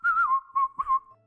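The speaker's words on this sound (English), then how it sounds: "He's flipping whistling." A person whistles a short wavering tune, a few sustained clear notes with small pitch bends and brief breaks, close and loud, then trailing off.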